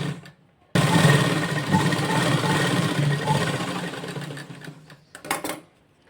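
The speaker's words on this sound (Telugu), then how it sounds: "ఇప్పుడు ఈ క్లాత్ని దీనిపైనే కుట్టుపడేటట్లు ఇంకో స్టిచ్ వేసుకోవాలి." Sewing machine stitching lehenga cloth, starting abruptly after a quiet moment and running loud and close in a steady whirring chatter for about four seconds before slowing, with a few clicks at the end.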